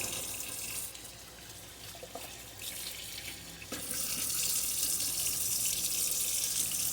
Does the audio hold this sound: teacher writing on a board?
no